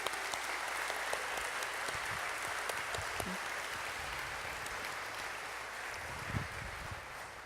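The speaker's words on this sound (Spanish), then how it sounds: "levante un fuerte aplauso al Señor." Church congregation applauding the Lord during a Spanish sermon, a dense, continuous roar of clapping lasting several seconds, fairly loud and steady, with a few low murmurs underneath.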